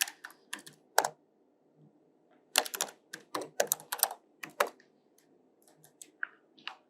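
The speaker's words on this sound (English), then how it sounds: "So first we have to type inside this." Keys clack on a computer keyboard in irregular bursts of crisp clicks, close and fairly loud, with short pauses between runs of typing and no talk.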